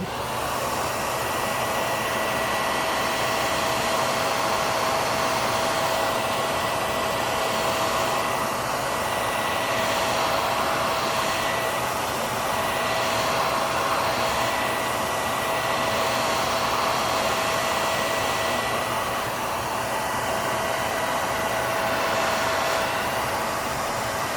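A hair dryer blows continuously at close range to dry dyed leather, a loud steady whooshing roar with a constant high whine and slight shifts as it moves.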